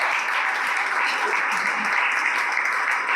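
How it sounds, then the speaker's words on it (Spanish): Church congregation applauding during a Sunday morning service, a steady dense wash of many hands clapping that fills the whole stretch at even loudness, with faint voices mixed in. "¿Cuánto le dan un aplauso al Señor en esta mañana?"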